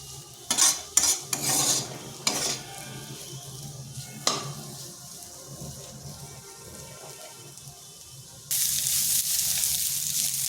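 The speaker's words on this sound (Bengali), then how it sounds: "সেরকম করে ভেজে নিচ্ছি" Vegetables frying in a pan for a crispy home-made snack with egg, heard as quiet sizzling broken by a few sharp spoon scrapes and knocks early on, then a brighter, louder hiss near the end, with no talking.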